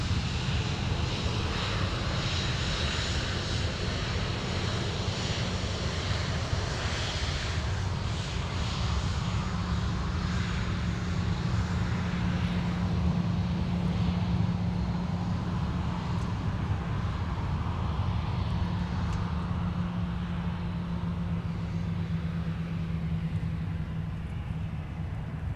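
A heavy airliner from London Heathrow drones steadily on final approach at Minneapolis–Saint Paul airport, a low continuous engine rumble holding for the whole stretch at moderate distance.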